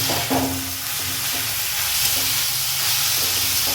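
Chopped tomatoes with capsicum sautéing in a pan for homemade pav bhaji, a steady close sizzle and hiss with soft scraping stirs, a low hum running underneath, no voices.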